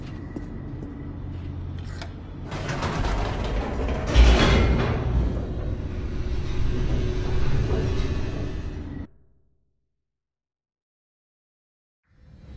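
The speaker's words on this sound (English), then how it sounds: "The elevator raced downward" An elevator plunging downward in The Stanley Parable: a steady low rumbling drone with mechanical rattle swelling to a loud peak, then cutting off abruptly into silence before a faint return.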